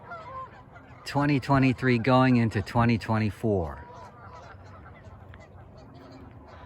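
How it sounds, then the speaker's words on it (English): Geese honk repeatedly in a loud, close burst on New Year's Eve at the American River, a chattering series of calls that fades into quieter background noise, with a person speaking briefly. "The birds are having quite a conversation on New Year's Eve"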